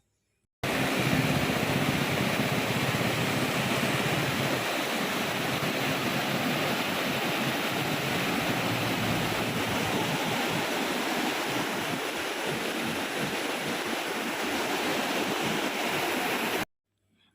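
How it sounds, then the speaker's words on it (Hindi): A fast mountain river near Manali rushes in a loud, steady roar of broadband water noise that stays unbroken for about sixteen seconds, heard up close with no voices. "नदी दिखा रही हूँ और नदी की आवाज़ सुनिए कितनी तेज़ है।"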